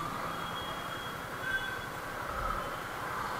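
Train noise at Ludhiana City railway station, a low rumbling hum with faint high metallic wheel squeals drifting in and out, heard from a distance without speech.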